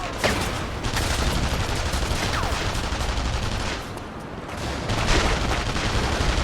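Dense gunfire from The Saboteur video game crackles in rapid overlapping volleys, a sustained loud barrage of shots that barely lets up for several seconds.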